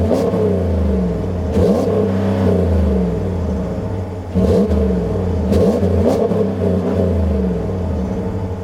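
A 2020 Ram pickup truck engine with its stock exhaust revving repeatedly up to a 4,000 RPM rev limiter, loud and close, with rising whines and bouncing cutoffs in several bursts.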